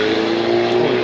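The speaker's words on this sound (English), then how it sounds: "and that car's loud." A loud car passing on a street in Miami Lakes, Florida, a steady close engine drone with a strong humming tone and no talk over it.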